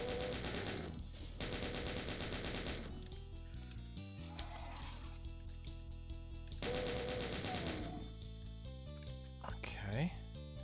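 Rapid gunfire from the classic shooter Doom, played in a custom map, coming as dense machine-gun-like bursts over busy game music, with a pause before the firing resumes.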